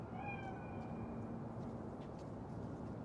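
A cat in the game Cyberpunk 2077 gives a couple of faint, rising meows early on, set against a steady low ambient hum with no talking.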